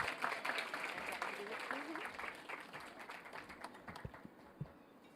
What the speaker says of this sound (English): Keep that applause going for her.